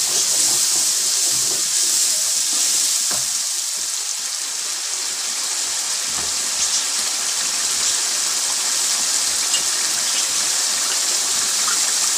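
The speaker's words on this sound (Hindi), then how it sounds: "थोड़ा सा पानी डालेंगे।" Water is poured into a chicken nihari masala of turmeric, coriander and salt, giving a continuous close hiss and gush that lasts the whole stretch without pause.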